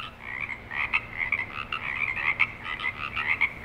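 Frogs croak in a small pond in front of the Ahwahnee Hotel in Yosemite Valley at night, a dense, continuous chorus of rapid overlapping calls, loud and close, with no voices.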